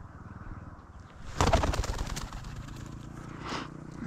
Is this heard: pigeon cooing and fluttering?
yes